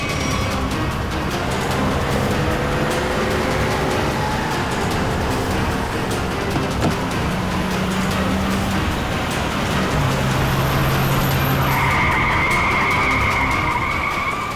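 A car speeds through a chase with its tyres skidding and squealing repeatedly, engine roar and screeching tyre tones rising and falling loudly throughout.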